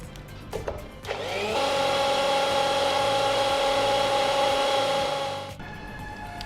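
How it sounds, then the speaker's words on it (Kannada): A kitchen blender whirs steadily for about four seconds while blending carrot juice with milk, starting up sharply and then cutting off, loud and close with no talk over it. "ಹಾಗಾಗಿ ಎಲ್ಲ ಫುಲ್ಲಾಗಿ ಬ್ಲೆಂಡ್ ಆಗಬೇಕು"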